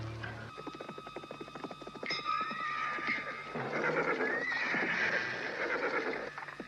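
A horse whinnies loudly and at length, its shrill neigh rising and falling, with faint hoof clatter beneath.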